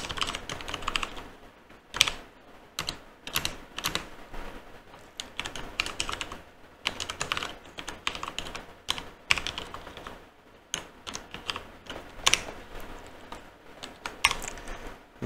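Steady fast typing on a computer keyboard while writing code, close and clear, with uneven bursts of keystrokes and brief pauses, heard alone without any voices.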